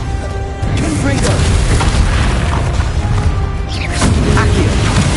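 A Confringo spell blast from the Hogwarts Legacy game on PS5 booms loudly amid a wizard duel, with bursts and crashing effects layered over shouted game dialogue across the whole stretch.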